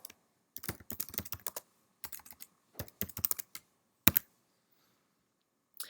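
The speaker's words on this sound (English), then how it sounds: "What I can actually do is type a reply." Typing on a computer keyboard, quiet bursts of rapid key clicks separated by short pauses, then a single firmer keystroke near the end, close and alone in a silent room.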